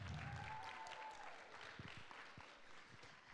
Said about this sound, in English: Can I get a round of applause for Nanu?